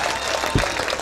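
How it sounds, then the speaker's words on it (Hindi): A crowd applauds at a Hindi poetry recital, a kavi sammelan in Sampla, with dense, steady clapping filling the whole moment and no voices over it. "हंसते हंसते ताली तो बजा सको यार,"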